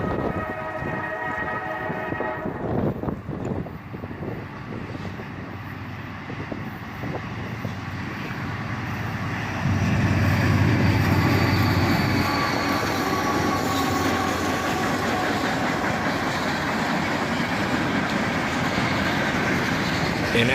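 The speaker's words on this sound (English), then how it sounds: "An ex-Louisville and Nashville SD42 leads, followed by an AC44 CW, still in its Y&2 paint scheme, built in 1995" Freight train led by an ex-Louisville and Nashville SD42 diesel locomotive, followed by a 1995-built AC44CW, rumbling past with a broad roar that swells louder midway, plus wheel squeal and rattling cars, heard outdoors from trackside.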